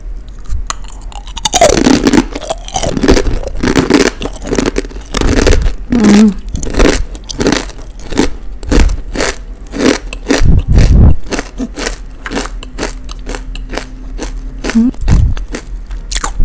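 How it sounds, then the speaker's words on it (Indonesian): Crunchy mini kembang goyang, a fried Betawi flower-shaped snack, being chewed close to the mic, with a dense run of crisp bites and crackles over several seconds. "Renyah banget ini kembang goyang mininya."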